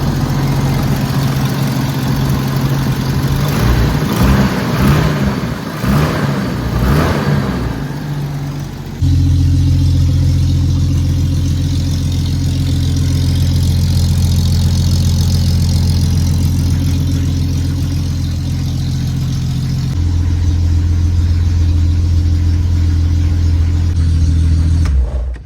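A Jeep Grand Cherokee ZJ engine, newly fitted with a Cherokee XJ fuel tank, cranks and catches, then settles into a steady, loud, close idle that hums on with no talking.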